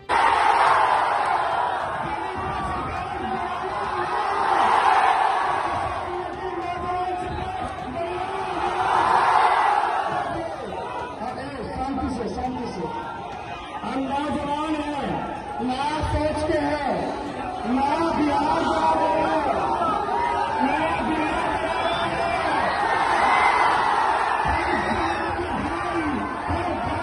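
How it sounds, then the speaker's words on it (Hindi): A large crowd cheers and shouts at Tejashwi Yadav's election rally in Bihar, a dense roar of voices that swells in waves and stays loud throughout. "तेजस्वी जहां जा रहे हैं जबरदस्त भीड़ जुट रही है"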